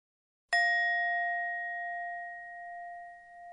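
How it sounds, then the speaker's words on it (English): A metal ball filled with water is struck once, giving a clear ringing ding with a bright metallic attack and a long, steady sustained tone that slowly fades, heard alone in silence. "Take a metal ball and pour water in it. Now let us try to strike it."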